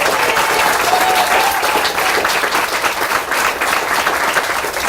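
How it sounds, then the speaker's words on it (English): An audience at a library grand opening claps loudly and steadily for several seconds, a dense wash of applause close by. "let's give another round of applause to Scott as well for all the hard work"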